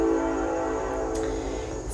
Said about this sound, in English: Don't mind the train passing through.